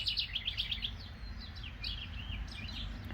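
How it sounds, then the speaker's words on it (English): House wrens sing near a backyard birdhouse in a vegetable and flower garden, with rapid, bubbling chirped phrases repeated in quick bursts, fairly close and clear over faint outdoor background. "We have some very vocal house wrens."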